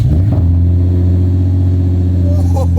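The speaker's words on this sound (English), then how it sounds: "He has not heard the exhaust, so I'm about to show him what it sounds like." A Lexus IS F fires up on a cold start, its exhaust settling into a loud, deep, steady rumble close by, with faint talk near the end.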